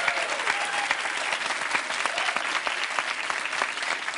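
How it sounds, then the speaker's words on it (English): Studio audience applause for a birthday on a quiz show, dense and continuous clapping from a crowd with sharp individual claps throughout, steady and moderately loud. "Give her a big round of applause"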